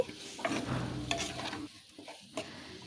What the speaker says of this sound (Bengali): এখন সমস্ত উপকরণগুলো একটু নাড়াচাড়া করে ভালো করেই মিশিয়ে নিচ্ছি